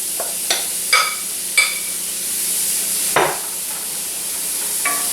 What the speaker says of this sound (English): we're going to put the cabbage in, get a nice sizzle on that